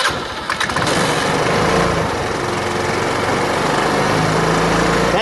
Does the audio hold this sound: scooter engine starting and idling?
yes